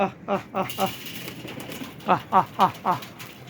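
A pigeon coos nearby in two rhythmic bursts of throaty, repeated notes, with a short pause between the series.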